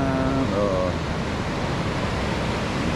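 Rough sea surf at Bukana, a dense continuous roar of breaking waves that stays loud and steady throughout, with a brief bit of voice at the start.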